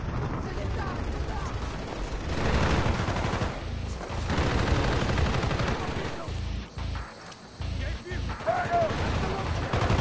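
Heavy gunfire in the video game Call of Duty: Black Ops, a dense, loud barrage of shots and explosions running almost continuously, with someone talking over it.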